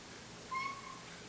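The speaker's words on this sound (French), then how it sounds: "c'est le retour de mon chat" A house cat gives a single short, clear meow close to the microphone, rising briefly out of a quiet indoor room.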